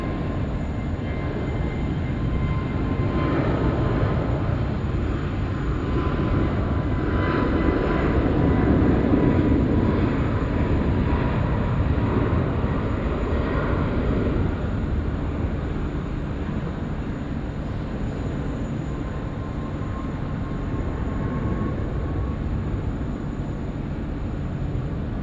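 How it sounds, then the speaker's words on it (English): A Jetstar Airbus A321 roars at Sydney Airport with a loud, steady broadband engine rumble that swells slightly around the middle and holds for about 25 seconds, with no voices. "here we go with the Jetstar 321 now."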